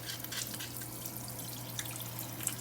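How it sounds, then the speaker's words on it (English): Pho soup bones being washed under running tap water, a soft continuous trickle and splash with occasional drips, close but fairly quiet, over a steady low electrical hum. "bones have been cleaned, and we're just washing out some unsanitary parts"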